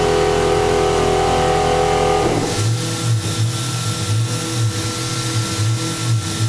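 A CNC machine building a reaction wheel cuts through a part: a steady machine hum that drops after about two seconds into a rougher, pulsing grind with a rhythmic low whine, loud and close.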